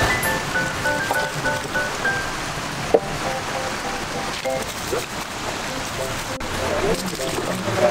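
Steady rain patters on surfaces near a warung with a fish pond, a dense continuous hiss with scattered drops close by, while a voice murmurs faintly underneath.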